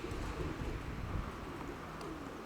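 Startled pigeons coo and flutter in a dense, steady wash of sound, fairly close, with no talking.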